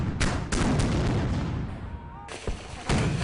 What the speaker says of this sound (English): At this distance, cannon can be fired with accuracy into the city.